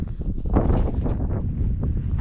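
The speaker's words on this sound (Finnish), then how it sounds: "Tuuli käpi tuossa aika rajusti." Wind gusting across a frozen, snow-covered lake in winter, a steady low rumbling roar buffeting the microphone, swelling slightly midway, with no talk.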